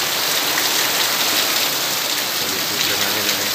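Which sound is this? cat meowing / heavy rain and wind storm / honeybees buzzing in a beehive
heavy rain and wind storm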